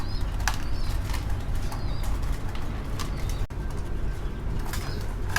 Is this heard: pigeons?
yes